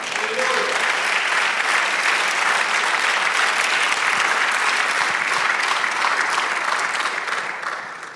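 A church congregation claps for the Lord in sustained, dense applause that fills the room loudly and evenly for several seconds before starting to taper at the end.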